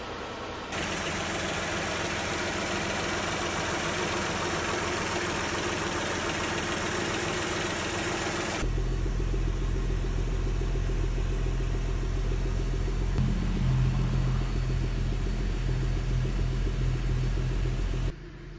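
A 3.5L engine from a 2011 Ford, previously seized, idles steadily while warming up with a low, even rumble that deepens partway through, running alone without voices.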